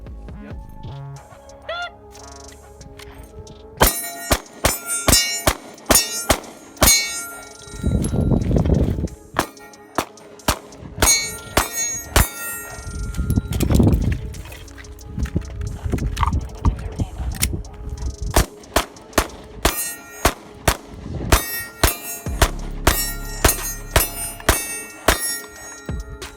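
A Shield Arms S15 pistol fired one-handed at steel targets: a series of sharp, loud shots in irregular bursts, each followed by faint metallic rings, with brief quiet gaps and occasional low handling noise between strings.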